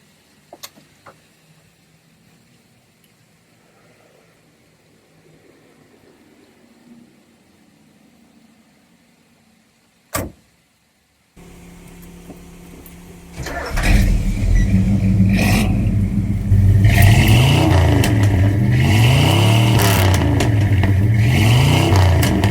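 A 48-year-old Lincoln Continental Mk IV with automatic transmission, heard from inside as its engine fires up and settles into a steady running hum that grows louder and fuller as the car pulls away, with no talk over it.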